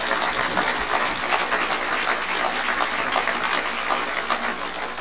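Audience applause during a talk, a dense, even wash of many hands clapping at moderate volume, steady for several seconds with no talk over it.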